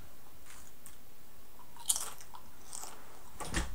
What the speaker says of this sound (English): I just got myself some chips, so sorry if you hear something crunching.